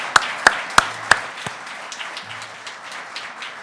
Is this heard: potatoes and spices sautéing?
no